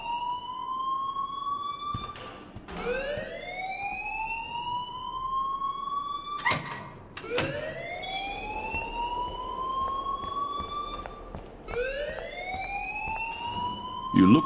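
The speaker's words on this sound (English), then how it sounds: "please turn off that alarm since that's your job" A fire alarm in the video game Life is Strange wails in repeated rising electronic sweeps, each climbing and holding before restarting, steady and fairly loud with no voices.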